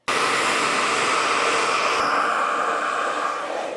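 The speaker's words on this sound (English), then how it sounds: "My roots are pretty dry, so I'm starting to dry the mids." A hair dryer blows steadily and loudly up close while hair is blow-dried with a brush, a constant breathy roar that dips slightly in pitch partway through.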